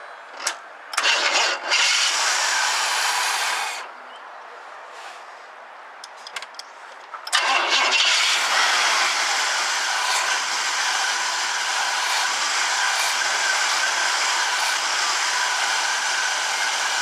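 A 1974 Chevrolet Blazer barn-find V8 cranks in a short burst and stops, cranks again, then fires and settles into a steady, loud running drone that holds to the end.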